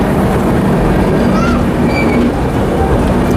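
The Barauni Gondia Express runs past at a station platform, a loud continuous rumble of rolling stock with faint squeals and tones on top, steady throughout.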